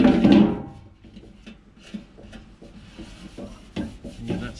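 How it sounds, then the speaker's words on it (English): Old silicone sealant being scraped and rubbed off a homemade hot fish and meat smoker, a close rasping scrape with a loud burst at the start, then intermittent softer scratches and rubs. "Make sure we remove any of the old silicone, any sealants like that, before we tack screw our plug hole plate on."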